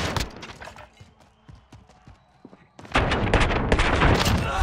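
Gunfire in the Warzone battle royale game: scattered sharp shots at first, then a dense, loud burst of rapid automatic fire fills the last two seconds, with no speech.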